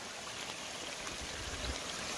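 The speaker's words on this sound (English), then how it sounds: "Water flowing everywhere." Water runs through streams and small waterfalls at the base of Mount Taranaki, a faint, steady rushing wash with no voices.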